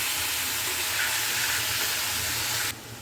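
Chicken sizzles steadily in a pan over a slow flame as it is stirred, giving a continuous, even frying hiss that drops away abruptly near the end, with no voices.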